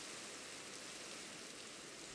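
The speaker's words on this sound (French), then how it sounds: "Oh merde, il pleut." Steady broadband hiss of rain falling in Minecraft, a constant wash with no breaks, moderately loud and unaccompanied by talk.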